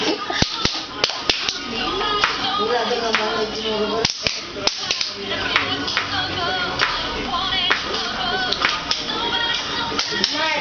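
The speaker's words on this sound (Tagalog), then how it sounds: "Yung may palakpak!" People clapping along to a kids' dance performance, sharp claps scattered irregularly over a busy mix of voices and music, with people talking and calling out throughout.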